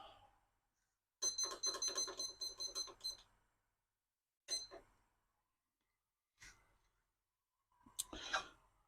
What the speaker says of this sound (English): Put a little timer on.